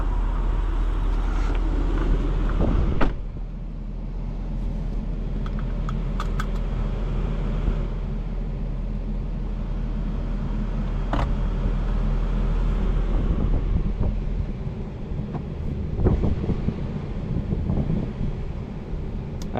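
A 2012 Porsche Cayenne Turbo cruising on the road, heard from inside the cabin: a steady low engine and road rumble blended with broad air hiss from the air conditioning running high, with a few brief knocks along the way.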